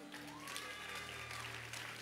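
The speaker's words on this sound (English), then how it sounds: "Clap for Hosanna." A church congregation claps for a young girl on Hosanna Sunday, steady faint applause throughout, with a low hum beneath.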